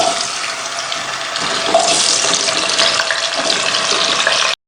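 Chopped radish and potatoes hit hot oil together in a pan, setting off a loud, close, steady hissing sizzle that swells slightly and holds until it cuts off.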